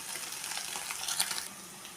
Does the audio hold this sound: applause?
no